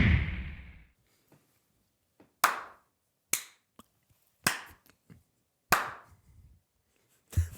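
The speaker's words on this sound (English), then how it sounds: "Why'd you clap 4 times?" Hands clap four times, each a sharp, close, isolated smack spaced a second or so apart, following a brief louder rustle at the start, with faint small taps in between.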